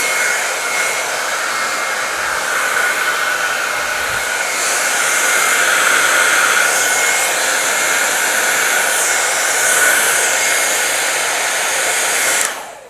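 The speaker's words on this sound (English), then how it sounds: "As I'm blow drying my hair, I can literally see the steam coming off my hair" A hair dryer set on heat blows steadily and loudly on natural hair, a constant close whooshing whir that runs without a break until it cuts off at the end.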